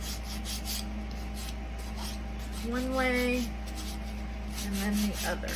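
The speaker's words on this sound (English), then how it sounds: "I think I'm going to get the sander." A sander works back and forth along the edges of a handmade wooden basket, a steady close rasp under a person speaking briefly.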